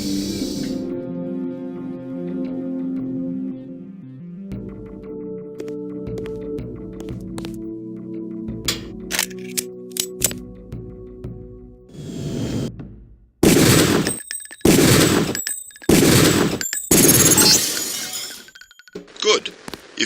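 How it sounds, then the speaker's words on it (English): Pistol shots hit training targets in the Deus Ex video game, and the targets break apart. A narrating voice talks over a quiet stretch first, then a series of sharp, loud cracks and shattering bursts come in quick succession near the end. "Release the first target and take a few shots with one of the pistols until it is destroyed"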